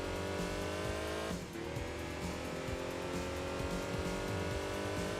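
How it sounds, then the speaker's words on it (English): A stock-engine microcar in Enthusia Professional Racing drones at high revs, a steady buzzy exhaust note holding throughout with a brief dip and shift mid-way, playing alone without talk. "it's got a beautiful, soulful exhaust sound as well. And this is a stock engine too."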